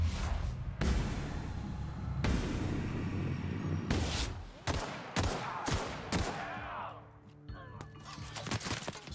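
Gunfire from the Outer Worlds game at the Edgewater area: a series of loud, sharp shots and bursts with booming impacts, spaced irregularly over several seconds, followed by quieter clatter.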